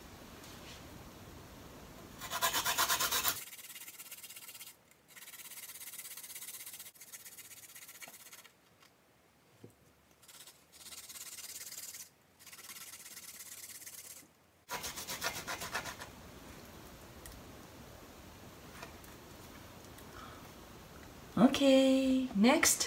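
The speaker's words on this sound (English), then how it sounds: "then grate them" Ingredients for karaage are grated into a bowl in several bursts of close, scratchy rasping, separated by pauses, with soft talk at times.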